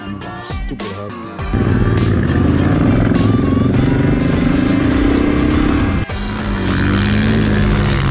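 A motorcycle on a mountain trail revs close by, climbing into a sustained loud engine roar with pitch rising steadily, then briefly drops off before pulling hard again.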